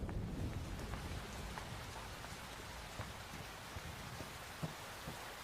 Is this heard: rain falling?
yes